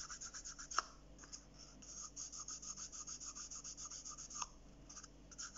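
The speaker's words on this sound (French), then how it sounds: "Je frotte pour enlever vraiment le surplus de colle" Steady rhythmic rubbing on paper or card while wiping away surplus glue from a handmade advent calendar craft, a soft close-up scraping that repeats many times in a row with a few sharper scuffs.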